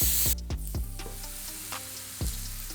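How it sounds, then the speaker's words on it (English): Cooking spray hisses briefly onto a frying pan, followed by several sharp clanks and sizzling sounds from the pan, close and fairly loud. "So spray your pan good"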